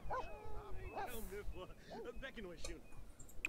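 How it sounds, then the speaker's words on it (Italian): Several dogs in The Sims 4 bark, yip and whimper in quick, overlapping bursts, fairly faint and close, with a voice talking over them. "Io qua ho più cani"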